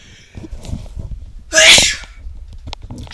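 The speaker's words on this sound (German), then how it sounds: "Und ich muss nochmal niesen." A person sneezes once, loud and close, a sharp breathy burst standing out against quieter background sound and game noises.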